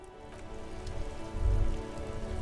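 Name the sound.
rain in a video game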